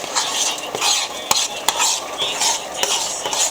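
A spoon scraping and stirring turkey neck gravy in a pot, steady rhythmic swishes broken by several sharp metallic clinks against the pot, close and clear with no voices.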